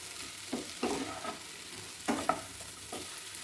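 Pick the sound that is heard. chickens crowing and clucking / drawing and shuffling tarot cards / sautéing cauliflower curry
sautéing cauliflower curry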